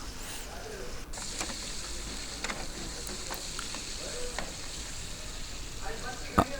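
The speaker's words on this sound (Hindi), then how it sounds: "इसकी भुनाई करेंगे, बूटी को ब्राउन करेंगे हल्का सा" Chicken pieces browning in a pan for chicken jalfrezi, a steady close hiss of frying with occasional stirring scrapes and a sharp clink near the end.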